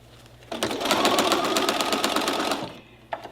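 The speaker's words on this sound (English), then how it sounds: "I'm going to sew that down." Sewing machine stitching a pot holder, a fast steady mechanical whir and needle chatter running for about two seconds, close and loud, starting and stopping abruptly.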